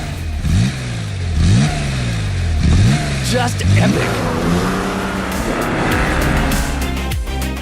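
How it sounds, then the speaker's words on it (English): Porsche Carrera RS 2.7 flat-six heard in a sound chamber, revved hard in repeated rising blips, four sharp climbs, then a long sustained roar, loud and close, with a brief spoken exclamation near the end. "Only 500 of the Carrera RS27 were built originally, and it sounds like this."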